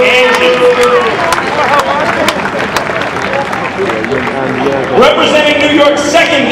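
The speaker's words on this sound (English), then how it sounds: "Let's have a nice round of applause for Angie." Crowd at a ballpark jersey retirement ceremony cheering and clapping for a town supervisor, a steady dense wash of applause and voices with an announcer's amplified speech over it.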